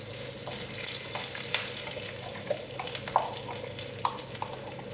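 Curry leaves sizzle and crackle in hot oil for a tempering, a steady frying hiss with scattered pops and brief stirring scrapes, close and continuous with no talking.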